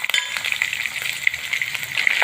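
Green chillies crackle in hot oil with cumin and sesame seeds for sabudana khichdi, a close, steady sizzle full of quick pops and spits.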